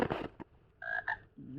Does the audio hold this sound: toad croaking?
yes